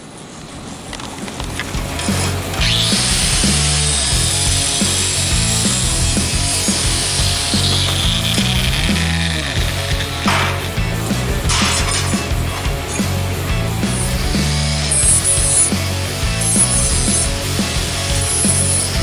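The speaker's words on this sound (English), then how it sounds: "I went over to the chop saw and cut my restaurant stainless steel into 2 chunks here." A chop saw grinds loudly and continuously through stainless steel, the harsh cutting noise rising and falling over about twenty seconds with brief dips between passes.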